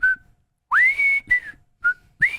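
A person whistles a TV theme tune, with several clear rising and sustained phrases separated by short silences, close and loud.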